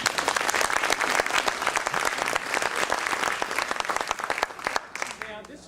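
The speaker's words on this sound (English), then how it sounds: "a round of applause for them" An audience at a theater festival's opening remarks claps steadily for the sponsors, a dense, loud wash of applause that holds strong before thinning out near the end.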